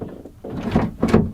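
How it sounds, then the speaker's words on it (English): A car or van door opens with a low thunk and rattle, and a couple of duller knocks follow as it swings open. The sound is fairly close, with no talking. "Open the door."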